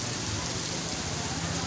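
Heavy rain pours steadily in a warm town setting in Taxila, a dense, continuous hiss of falling water with no break across the short stretch.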